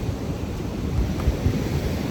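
Ocean surf rolling onto a La Union beach, a low rumbling wash of breaking waves mixed with wind buffeting the microphone, steady and fairly close.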